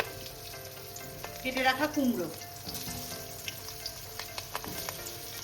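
Green chili frying in hot oil for a hilsa curry, a brief crackling sizzle that swells for a moment and then settles into a low hiss, with a voice speaking over it.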